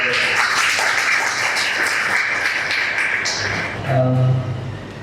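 Audience applause at a book launch event in a hotel, a dense steady wash of many hands clapping that carries for several seconds and then thins and fades out toward the end.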